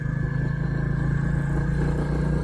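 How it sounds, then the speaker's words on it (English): A Royal Enfield Classic 350 motorcycle engine idles close by in a steady, even thump with a low rumbling pulse and a constant hum, running alone without any speech. "I love the sound of this engine."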